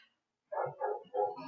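A dog barks three times in quick succession, moderately faint and slightly distant, in an otherwise quiet room.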